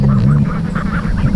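Ducks and geese quack steadily and loudly close by in a small mud-puddle pond, a busy overlapping chatter of waterfowl with a low rumble underneath.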